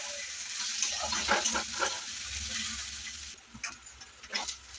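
Sliced onions fry in a pan for a paneer tadka, giving a steady, close sizzle with soft stirring clatters and brief scrapes, with no talking.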